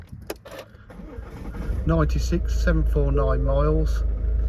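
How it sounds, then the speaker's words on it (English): A Ford S-Max 2.0 TDCi Titanium diesel engine turns over and settles into a steady low rumble partway through, with someone talking over it. "Start the car up."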